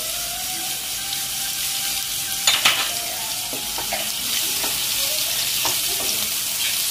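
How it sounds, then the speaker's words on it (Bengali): Chopped onion hits hot oil in a pan with fried garlic and sizzles steadily, with a few louder crackles and stirring scrapes scattered through the frying. "এবার আমি কুচানো পেঁয়াজটা দিয়ে দেবো তেলের মধ্যে"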